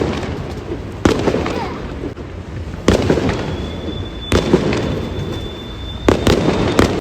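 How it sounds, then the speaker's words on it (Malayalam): Fireworks burst at a Tamil New Year celebration in Mauritius: several loud, sharp explosions spaced a second or two apart, with a thin whistling tone and distant crowd ambience in between. "അവിടെ പടക്കം പൊട്ടുന്നൊക്കെ കാണുന്നുണ്ടായിരുന്നത്."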